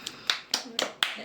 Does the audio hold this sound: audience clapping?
yes